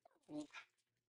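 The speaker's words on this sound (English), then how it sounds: "I'm sorry about the barking." A single short, faint dog bark, a quick yip that fades at once.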